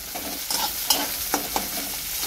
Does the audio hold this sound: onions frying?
yes